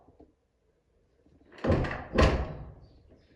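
An interior door on its hinges is opened and closed inside an A-frame house under construction, two heavy thuds close together after a near-silent pause.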